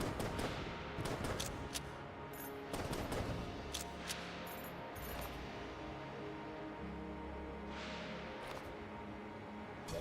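Rapid bursts of video game gunfire hammer at a wall, with loud repeated shots clustered in volleys across the whole stretch and no talking.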